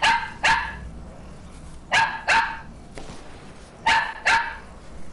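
A dog barks in three separated pairs of sharp, loud, close barks, with quiet room noise between them.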